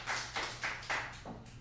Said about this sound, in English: Give me a round of applause if you played hide and seek before.